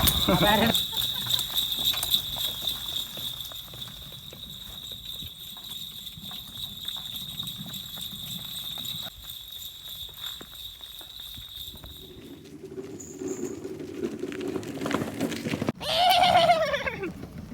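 A horse pulling a cart in Kerala gives a loud, shrill whinny near the end, after a long stretch of steady road noise and a faint high whine during the ride.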